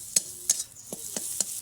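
Spices fry on low heat in a pan as a spoon stirs them in five quick, faint scraping strokes over a soft sizzle.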